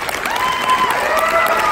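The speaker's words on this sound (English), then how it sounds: "Can we get all of our ladies one more big round of applause?" Loud, continuous applause from a crowd, with clapping filling the whole moment and a few faint cheers mixed in.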